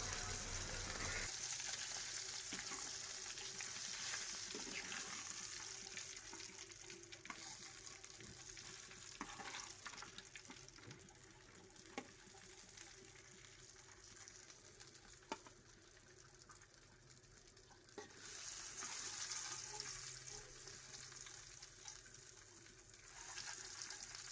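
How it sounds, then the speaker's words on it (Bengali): Tengra fish fry in oil in a pan with a loud, dense, continuous sizzle and crackle. It swells and eases slightly over the length, with occasional small taps as pieces are turned or lifted out. "আমি এইভাবে হালকা করে ভেজে সামান্য একটু মাছটা শক্ত হয়ে যাওয়া পর্যন্ত অপেক্ষা করে আমি একে একে উঠিয়ে নিচ্ছি"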